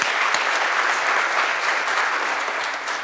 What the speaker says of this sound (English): So I applaud, very nice.